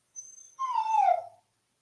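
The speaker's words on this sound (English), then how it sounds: "Apologies for my dog." A dog whimpers briefly, then lets out a single drawn-out howl that slides downward in pitch, close and fairly loud in an otherwise quiet room.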